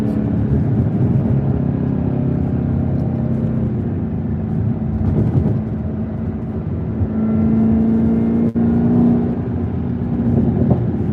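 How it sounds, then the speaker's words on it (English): A 2021 Chevrolet Camaro ZL1 1LE heard from inside the cabin while driving, with a steady loud engine drone and road noise, the pitch rising and settling as gears change, plus a brief knock near the end. "The gears change so smooth."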